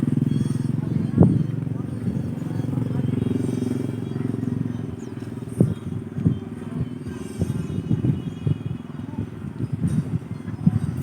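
Motorcycles pass steadily along a busy road in Sablayan, Occidental Mindoro, their engine drone rising and falling with sharp bursts and background chatter throughout.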